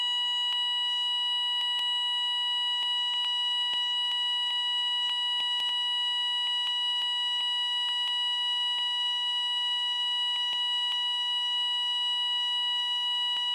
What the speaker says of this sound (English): and the alarm is still going.